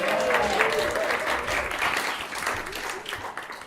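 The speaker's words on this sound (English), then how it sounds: "Do you want to clap him as well?" A house-concert audience claps for a didgeridoo player, dense sustained applause from a small crowd that holds steady for a few seconds before thinning slightly.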